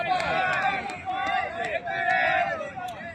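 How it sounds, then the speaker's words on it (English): BCC Thunders players shout encouragement at an amateur 20-over cricket match outdoors, several raised voices calling out in overlapping bursts, fairly close. "BCC Thunders teams are cheering Vamshi"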